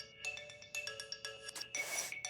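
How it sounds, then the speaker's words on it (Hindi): A phone rings indoors in a home with a repeating electronic melody of bright tones. It is faint and heard alone. "फोन बज रहा है यार।"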